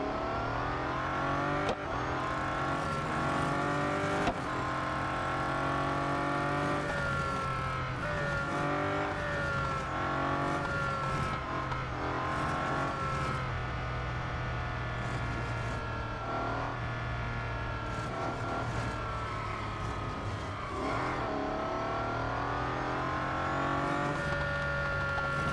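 A Bugatti Centodieci races flat out in Real Racing 3, its engine note climbing and dropping through repeated gear changes, a loud, continuous synthetic roar with no talking.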